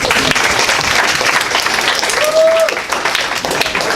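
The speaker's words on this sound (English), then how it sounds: "applaud for Louise, please" Audience applause in a lecture hall, loud and steady clapping from a crowd that carries on for the full few seconds, with a brief whistle-like tone rising through the middle.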